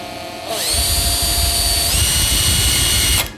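A power drill whirs up and runs steadily at high speed, pitch shifting slightly partway, then cuts off abruptly; loud and close, no talking.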